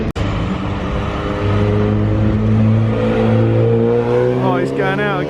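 A Mazda MX-5 race car accelerates out of the pit lane at Snetterton, its engine note climbing steadily through the gears, loud and close, with a short sharp click at the start and faint talk near the end.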